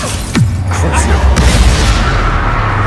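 Explosive spell blasts in the Hogwarts Legacy video game: a loud booming impact with a falling whoosh, followed by dense rumbling bursts and crackles that stay heavy throughout.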